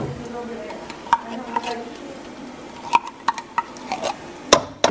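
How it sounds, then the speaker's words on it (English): Tomato paste and onion cooking in a pan for a Persian dish, with a soft sizzle under sharp, scattered clinks and scrapes of a utensil stirring against the pan. "Cook the paste with the onion."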